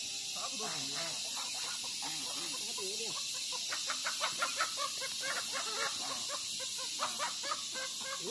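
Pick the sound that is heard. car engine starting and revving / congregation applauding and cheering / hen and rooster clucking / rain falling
hen and rooster clucking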